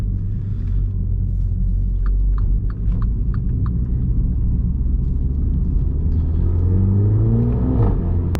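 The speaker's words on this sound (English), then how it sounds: "this is my F56 Mini John Cooper Works" A MINI John Cooper Works F56 in sport mode accelerates on a night drive, its engine a loud, continuous low rumble that rises in pitch toward the end, with a few brief clicks early on.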